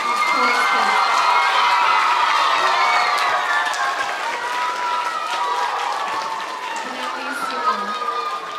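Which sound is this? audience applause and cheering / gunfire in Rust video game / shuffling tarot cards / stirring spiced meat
audience applause and cheering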